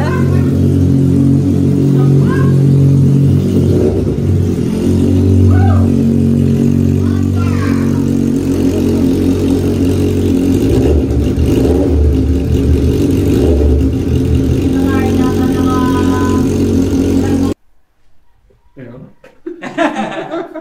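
A Suzuki GSX-S750 motorcycle idles with a steady, loud engine rumble and occasional revs, under laughter and casual talk, then cuts off abruptly near the end, leaving quieter room noise and voices.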